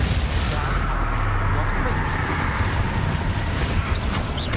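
Spell blasts in the video game Hogwarts Legacy, Bombarda and Glacier among them, fire as repeated booming, gunfire-like bursts over a continuous rumbling battle din, with voices calling out.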